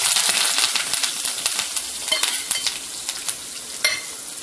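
Onions and curry leaves fry in oil with mustard seeds, urad dal, fenugreek and cumin, crackling loudly and continuously with sharp spattering pops scattered throughout, close up.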